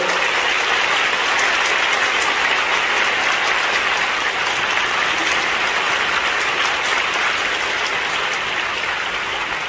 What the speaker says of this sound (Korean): 큰 박수로 격려해 주시면 좋겠습니다